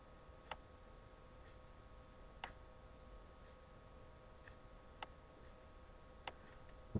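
A computer mouse clicks a few times at spaced intervals while someone works in GIMP image software, sharp faint taps in a quiet room with no speech.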